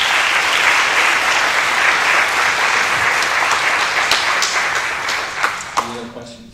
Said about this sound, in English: give Derek a round of applause